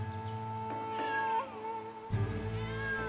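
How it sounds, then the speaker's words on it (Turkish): A cat meows faintly a few times, drawn-out and wavering, over a low steady background hum. "Kediler bile özlemiş beni, miyav miyav."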